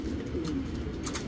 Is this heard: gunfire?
no